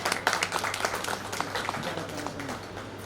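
An audience at a Marathi poetry gathering breaks into brief, lively applause, many hands clapping together in a quick burst.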